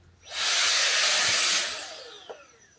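A small hair dryer blows a steady, loud rush of air for about a second and a half, then spins down and fades, with a faint click near the end.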